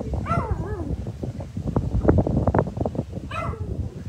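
A dog near a marina drive gives a couple of whiny, yelping vocalizations at the start and near the end, with rustling movement and light wind noise in between.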